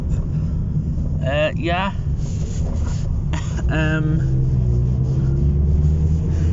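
A low steady engine rumble and road noise fill a car interior while driving, with a person talking over it briefly.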